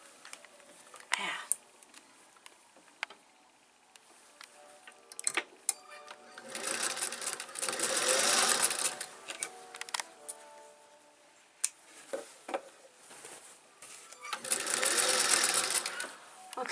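A sewing machine stitches an apron in several bursts of rapid mechanical whirring, separated by pauses filled with small clicks and handling noises, close and clear.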